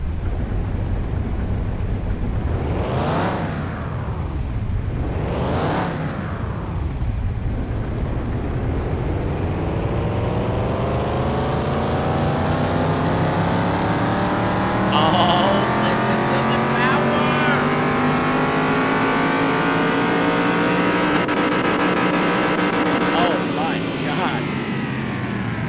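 A '58 Plymouth Fury engine runs on a dyno, its loud roar climbing steadily in pitch through a long rev sweep after a couple of brief throttle blips.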